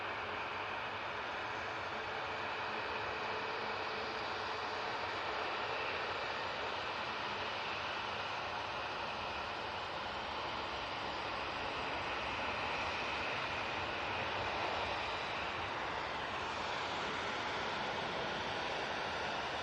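A Qatar Airways airliner at Manchester Airport gives off a steady, broad jet roar that holds evenly throughout, heard from a distance with no talking.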